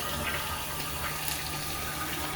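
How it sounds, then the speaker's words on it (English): An old toilet flushed after a Borax drop-in tank cleaner is used, a loud, close rushing gush of water that roars steadily throughout without talk. "So we're going to flush."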